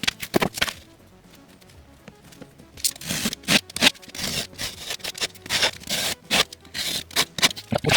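Bursts of scraping, rasping saw strokes cutting through a board for a cheap modular build, coming in quick irregular runs after a quiet pause, close and fairly loud with no talk.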